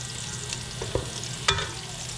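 Onion frying in a pan with a steady sizzle and a couple of soft stirring scrapes, close by, no voices.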